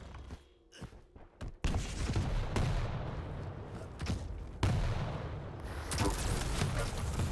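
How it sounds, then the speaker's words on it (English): Railgun blasts and rocket fire in a Quake Pro League duel, heard as loud booming shots over a constant roar of action, with several sharp impacts spaced a second or two apart. "Ooh, CNZ with the big rail"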